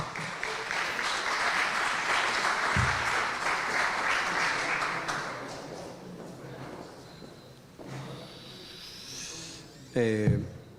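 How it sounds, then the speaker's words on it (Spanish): An auditorium audience applauds to welcome a speaker at a book presentation on development projects, broad clapping that fades out midway, followed by scattered rustles and a brief voice near the end. "Vamos a invitarlo con un cálido aplauso, por favor."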